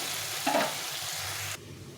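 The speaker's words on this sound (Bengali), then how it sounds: "এটাকে একটু ভেজে নিতে হবে" Food frying in a pan gives a steady close sizzle with a brief scrape of stirring early on, then the hiss drops off abruptly as if the heat or pan is moved.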